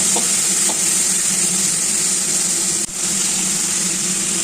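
Loud, close sizzling of spices frying in hot oil, a continuous bright hiss with a brief dip partway through.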